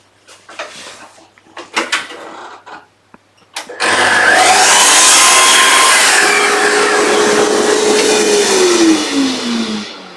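A drop saw bites into wood for a dovetail demo box: after a few light knocks and handling noises, a loud, steady whirring cut starts and runs close-up to the end, its pitch sliding down as the blade slows.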